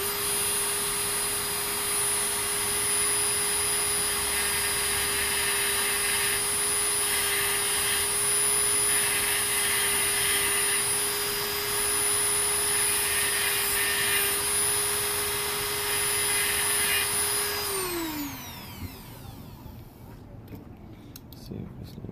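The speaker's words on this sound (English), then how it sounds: "And I'm just grinding that off." Power grinder cutting down plastic parts on the third brake light of a 2005 Buick Lacrosse, a loud, steady high whine that holds for about seventeen seconds, then spins down and fades near the end.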